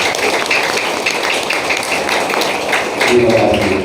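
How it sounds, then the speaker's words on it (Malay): Dense, steady applause honoring sepak takraw athletes, a continuous wash of many hands clapping at a formal gathering, loud and sustained throughout with a faint murmur of voices mixed in. "Jadi satu tepukan untuk dia"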